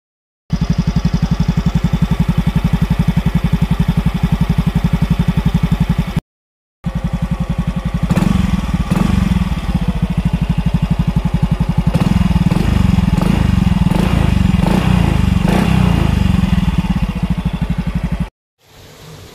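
A Yamaha Mio i 125 motorcycle with its stock exhaust idling and revving up close, a steady low rumble with repeated throttle blips and a brief cut partway through.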